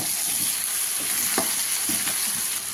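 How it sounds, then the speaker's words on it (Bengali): Green chillies and sugar fry in a pan with a steady, close sizzle, broken by a few soft scrapes of stirring, for preparing a Bengali pui shaak and prawn chorchori. "আর দিয়ে দিচ্ছি পরিমাণ মতো মিষ্টি। দিয়ে এবার এটা কষা হবে।"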